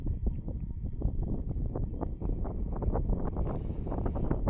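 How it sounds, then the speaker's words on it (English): Strong northwest wind buffets the microphone at an outdoor F5J electric model glider contest in Trnava, a continuous loud rumbling roar with gusty bursts throughout. "So we have much stronger wind blowing today from northwest direction."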